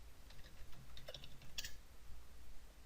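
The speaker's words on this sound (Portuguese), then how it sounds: "Vou digitar aqui o comando clear." Quiet, close keystrokes on a computer keyboard as a short command is typed into a Linux shell, a few soft clicks in a brief burst with no talking.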